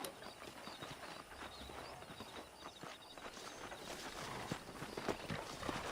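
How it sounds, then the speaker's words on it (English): Horses walk in the Red Dead Redemption western video game, a soft, steady clip-clop of hooves at a faint level over an ambient outdoor bed, with no talk. "Let's see if we can't wrangle some horses."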